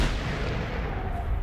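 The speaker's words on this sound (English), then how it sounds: "That sounds like a tank." A tank fires in the Generation Zero video game, a deep, rumbling low boom that fills the whole moment at steady loudness, heavy and dull with no voices over it.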